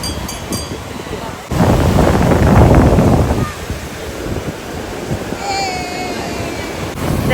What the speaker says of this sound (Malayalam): നല്ല തിര നല്ല ശക്തിയിൽ വരുന്നുണ്ട്